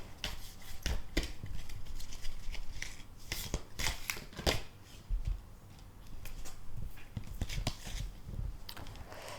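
An oracle card deck is shuffled by hand, producing quick riffling bursts and soft slaps of cards in irregular rhythm, close and moderately quiet with no talking.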